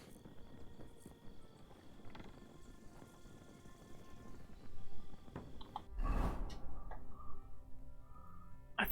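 Hooves clip-clop steadily over a busy Kingdom Come: Deliverance II game soundscape, followed by a loud burst and a horse's neigh near the end.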